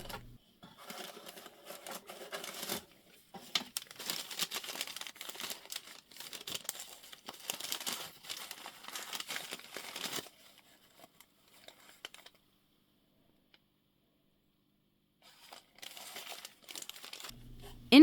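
Original paper wrappers around spare radio tubes in a 1940s WWII agent radio suitcase crinkle and rustle up close. The crinkling comes in bursts with short quiet gaps between them, then falls silent for several seconds before resuming.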